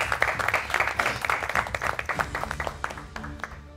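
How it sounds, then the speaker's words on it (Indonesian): A small crowd applauds, with quick overlapping hand claps that gradually thin out and soften. "Terima kasih Rehan, kasih tepuk tangan dulu."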